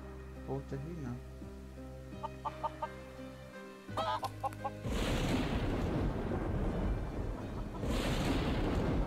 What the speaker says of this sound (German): Rote Hühner.